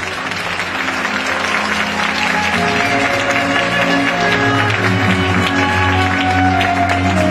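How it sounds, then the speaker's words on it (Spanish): A crowd at a graduation ceremony applauds the graduates, delivering loud, sustained clapping that stays dense and even throughout, with a faint steady tone running underneath. "¡Fuerte el aplauso!"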